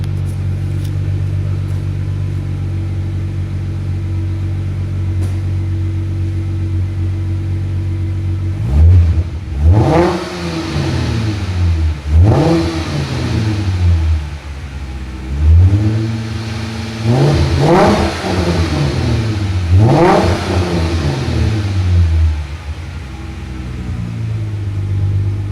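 A base Dodge Charger with a 2.7 V6 and dual exhaust idles with a low steady rumble, then is revved four times in swelling bursts that climb in pitch and fall back to idle.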